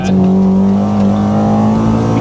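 A Honda Civic EJ9 with a B18 engine revs hard at high rpm, a loud, steady, close-up howl of engine and exhaust that holds continuously, heard from inside the car with no talk.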